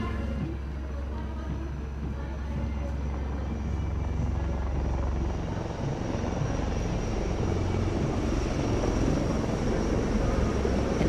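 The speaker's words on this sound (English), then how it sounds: "And now, eyes in the sky, we have the advanced light helicopters" Dhruv and Rudra advanced light helicopters in formation fly past at India's Republic Day Parade, a loud, steady rotor and engine roar building as they draw near.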